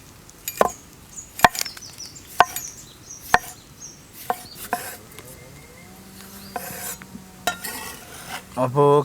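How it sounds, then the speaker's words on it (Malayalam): A knife cuts small tomatoes on a board in sharp, separate chops spaced irregularly, close and crisp, with a few softer rustles and clinks between the strokes. "2 തക്കാളി കട്ട് ചെയ്യാം. ചെറിയ തക്കാളിയാണ്."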